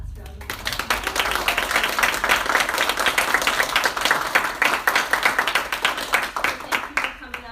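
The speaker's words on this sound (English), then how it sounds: "let's give them a last round of applause." Audience at a school report card presentation gives a final round of applause, dense hand clapping that starts abruptly and carries on for several seconds, thinning into more distinct individual claps near the end.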